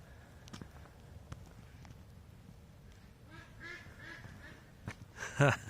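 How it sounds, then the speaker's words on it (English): Faint quacking and honking of ducks in the distance over an outdoor rumble, with a few sharp clicks and a louder burst near the end. "There's the ducks up there."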